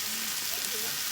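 Marinated meat with a smoky barbecue sauce marinade sizzles in a hot pan at a barbecue, a constant close hiss filling the brief moment.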